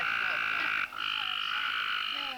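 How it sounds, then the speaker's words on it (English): A dense outdoor chorus of frogs croaks continuously, a loud, shrill trilling that carries through with only a brief dip partway. No voices are heard. "listen to them frogs."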